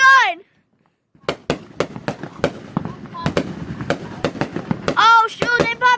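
Fourth of July fireworks burst in a quick string of sharp cracking pops at close to middle distance, with excited voices shouting over the barrage at the start and again near the end.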